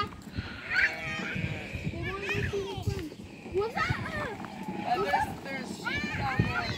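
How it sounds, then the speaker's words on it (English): Sheep bleat at a zoo, with several wavering calls rising through the noise of children and adults chatting nearby throughout. "Yeah, I can hear the sheep."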